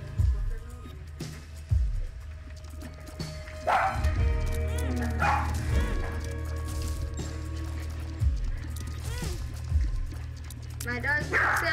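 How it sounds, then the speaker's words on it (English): Dog barking and yipping indoors, several sharp barks scattered throughout, partly under a person talking and game sounds playing in the background. "My dog keeps yelling."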